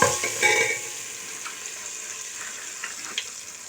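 Cumin, turmeric and dried red chilies frying in hot oil, a bright crackling sizzle that bursts loudly at first then settles into a steady, quieter hiss with small pops and stirring.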